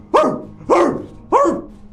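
A dog barks three times in an even rhythm, each bark sharp and close, with short gaps between them.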